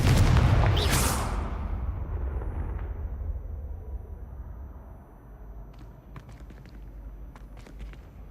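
A loud, booming Confringo spell blast in the Hogwarts Legacy video game, with a sharp burst that fades into a long rumbling tail, then scattered faint clicks and debris sounds.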